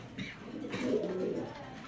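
A female pigeon from a breeder's loft gives a soft, low cooing call close to the microphone, one short throaty phrase with a gentle rise, set against quiet background noise.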